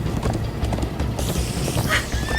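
Horses galloping in Minecraft: Story Mode, a steady drumming of hooves with a brief whinny near the end, loud and close.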